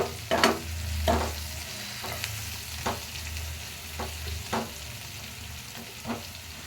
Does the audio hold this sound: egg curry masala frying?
yes